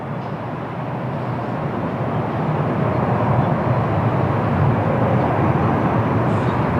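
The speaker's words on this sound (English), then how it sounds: "Okay, we have a Lufthansa Airbus A320" Lufthansa Airbus A320neo at Lisbon Airport on a windy day, a broad, steady jet roar that swells slightly and then holds loud and continuous, with no voices.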